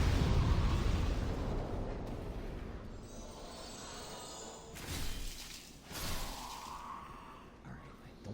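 A burning oil cask bursts in Demon's Souls at Boletarian Palace, a loud broad roar that fades slowly, with further whooshing bursts of flame flaring up afterward.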